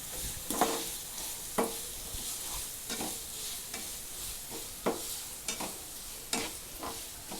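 Onions, five green chillies and a sprig of curry leaves sautéing in a pan for prawn podimas, with a steady soft sizzle broken by repeated scraping stirs of the spoon every second or so, close and fairly quiet.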